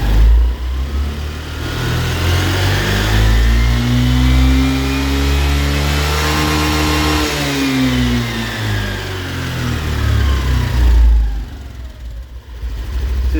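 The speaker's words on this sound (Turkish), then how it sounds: "Bu ses şanzımandan gelir." A Honda Activa 125 scooter revs up and settles back down, with a rising and falling transmission whine riding above the engine's drone; loud and close, no talking.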